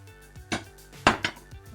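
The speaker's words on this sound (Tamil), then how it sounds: "இப்போ நாங்கள் கறி வைக்கிறதுக்கு சட்டி அடுப்பில் வச்சு" A cooking pot for mutton curry being set on a stove, producing a few close metallic clanks and knocks, with two sharper hits in the middle, alone without speech.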